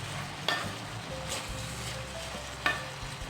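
Green chillies and curry leaves stirred in a hot pan for a Kerala egg roast, steady sizzling and frying with a couple of sharp scraping strokes of the spoon, close by, no talking.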